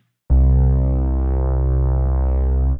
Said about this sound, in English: Low passing again and adding some heavy tube saturation, which is odd harmonics.